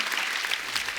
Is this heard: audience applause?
yes